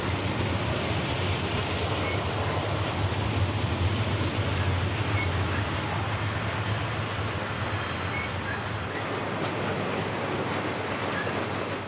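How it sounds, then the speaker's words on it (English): A long freight train of bulkhead flat cars loaded with plate steel rolls past on a steep mountain mainline. It gives a continuous, even roar of wheels and wagons that stays unbroken and fairly loud throughout. "These bulkhead flat cars rolling by may look empty at a glance, but they're actually carrying heavy sheets of plate steel."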